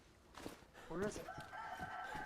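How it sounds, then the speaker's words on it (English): A rooster crows in the DayZ video game's Chernarus countryside, one fairly faint, drawn-out call rising and falling over low background ambience, with no talking over it. "I hear chicken. Yep. Yeah, we've got a seacock."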